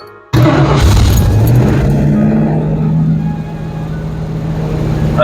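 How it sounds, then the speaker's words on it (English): A restored 1973 Ford Mustang engine with a slightly sticky choke roaring up loudly from a sudden start and then holding a steady, heavy rumble while the car moves off on its first drive. "I think we're ready for our first test drive"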